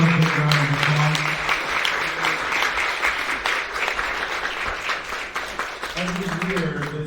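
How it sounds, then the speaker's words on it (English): Big round of applause for speakers and panelists at the close of the Arlington Fair Housing Conference, a dense, sustained wash of clapping from a large crowd, with voices heard at the start and end. "can we give all of our speakers and panelists one more big round of applause?"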